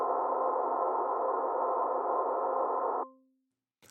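Noise shaped in Ableton by a narrow, high-gain EQ boost with the lows and highs cut away, a steady band-limited tonal hiss that holds for about three seconds, then rings out and trails off into silence.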